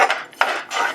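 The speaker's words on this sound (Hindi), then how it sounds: "इसे एक बार अच्छे से स्टर करके 1 मिनट और हम भूनेंगे।" Spoon scraping and clinking against a pan while mirchi salan ingredients are stirred and roasted, a few close scrapes with brief pauses between them, no talk.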